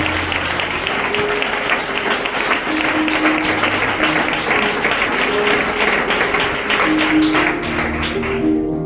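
A congregation at a church service applauds steadily for about nine seconds, a dense, sustained wash of many hands clapping nearby, with faint scattered voices beneath it.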